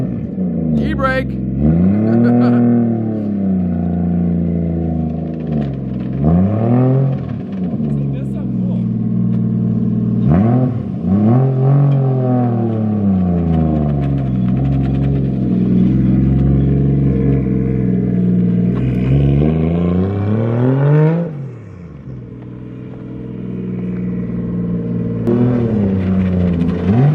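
A BMW E36 fitted with a JZ engine swap is revved repeatedly up close, each rising wail climbing high then dropping back to a rough idle, several bursts in a row with people talking over it.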